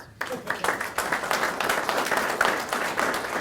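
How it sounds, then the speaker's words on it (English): An audience at a Gaston County NC Works Certified Work Ready Community announcement breaks into applause after a brief pause, a lively, continuous patter of many hands at moderate volume. "More applause."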